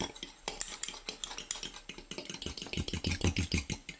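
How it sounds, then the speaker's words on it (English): Egg and oil being beaten in a bowl for skillet cornbread, rapid rhythmic clinks and scrapes of a utensil against the bowl, close and fairly loud, continuing steadily with brief pauses. "So I've got the egg in here, and we're just going to give that a real quick beat."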